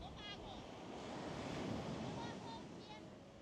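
Sea waves and strong wind roll onto a beach in Xiamen, China, a steady roaring surf with gusty microphone buffeting, and faint voices are heard in the background.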